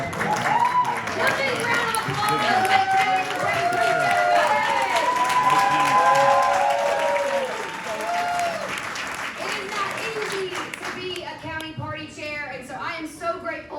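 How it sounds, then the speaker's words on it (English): A crowd at a fundraiser keynote breaks into loud, sustained applause with cheering and whoops over it, easing to lighter clapping toward the end. "Give me a round of applause."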